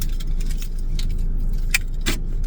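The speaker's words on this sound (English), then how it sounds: "I'm just gonna take my keys" A set of keys jangles in a few short, sharp bursts close by, over a steady low rumble like a car interior.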